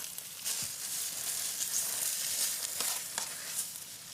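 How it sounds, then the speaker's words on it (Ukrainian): Steady crackling sizzle of a paste frying in a hot frying pan, continuous and close, with occasional sharper pops and no voices. "Тепер це треба підсмажити на пательні. Шкварчить вже одразу, кричить."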